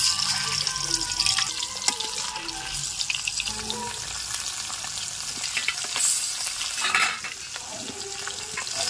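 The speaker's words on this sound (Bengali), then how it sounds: "মাছগুলিকে খুব ভালোভাবে ভেজে নেব।" Pieces of large river bhola fish rubbed with salt and chili powder fry in hot oil in a wok, giving a loud, close, continuous crackling sizzle with bubbling spatters throughout.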